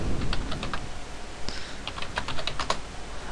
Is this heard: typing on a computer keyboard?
yes